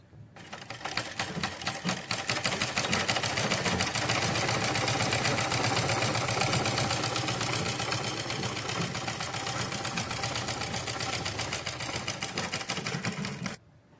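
A sewing machine stitches a Patiala salwar in one long, even run, its needle clattering in a fast steady rhythm close by before it stops abruptly.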